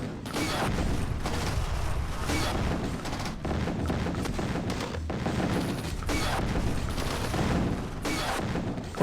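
Continuous gunfire and explosions from units battling in the real-time strategy game Command & Conquer: Tiberian Sun, a dense, steady barrage of shots and booms throughout with no pauses.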